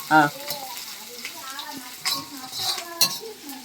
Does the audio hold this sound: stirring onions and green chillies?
yes